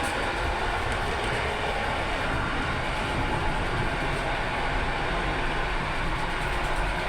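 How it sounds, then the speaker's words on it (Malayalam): A local train in Poland, heard from inside near the onboard toilet: a constant loud rumbling roar of wheels on track, with faint rhythmic clatter and no talk. "ഇത് ലോക്കൽ ട്രെയിനാണ് കേട്ടോ."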